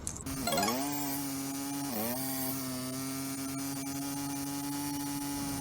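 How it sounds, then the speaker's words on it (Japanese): A disc grinder cuts through a reinforced concrete pipe with a loud, steady whine. It starts with a rising spin-up, dips and recovers as the disc bites near two seconds, then holds a constant harmonic tone to the end. "ディスクグラインダーで切ります。"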